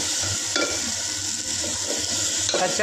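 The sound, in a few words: spice mix of pepper, cumin and chilli frying in pan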